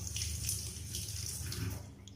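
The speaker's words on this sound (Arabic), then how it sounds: "نضيف له شويه ديال الخل" White vinegar being poured into a mixture for chicken nugget batter, a soft continuous liquid trickle and splash, close but fairly quiet, lasting a couple of seconds with no talking.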